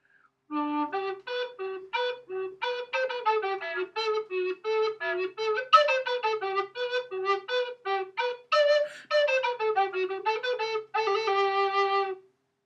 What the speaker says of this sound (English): This is the tenor recorder.